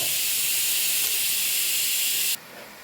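A loud, sharp hiss of steam jets out continuously from a pressure cooker whistle while cooking beef curry, then cuts off abruptly and leaves a quieter hiss.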